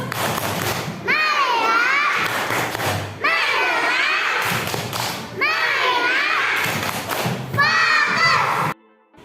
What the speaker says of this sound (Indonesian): kita tepuk fokus terlebih dahulu